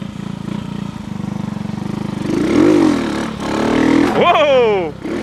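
A 2017 motorcycle, brand new, fires up and idles with a steady low putter, then revs twice in rising and falling sweeps, close and loud, with people talking over it.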